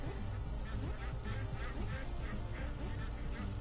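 Ducks quack repeatedly in a Christmas-themed platformer video game, their calls rising over busy game sounds and jingle-style background music while someone talks over them.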